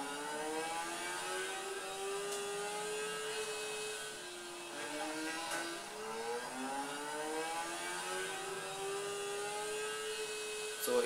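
A motorcycle engine in Saints Row The Third on PS3 whines and revs steadily in rising and falling sweeps, moderately loud and alone without talk.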